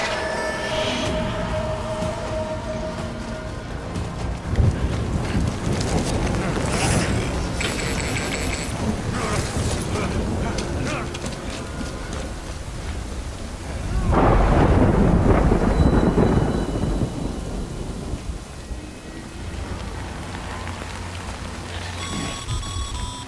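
Steady rain and rumbling thunder from the Death Stranding video game, a continuous storm bed with a louder thunder swell in the middle and no talk.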